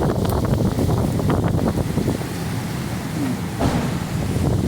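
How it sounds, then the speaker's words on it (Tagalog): Strong wind buffets the microphone in loud, rough gusts, roaring continuously with brief surges. "Ayan ang lakas ng hangin."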